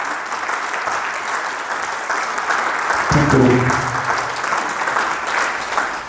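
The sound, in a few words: audience clapping loudly in a hall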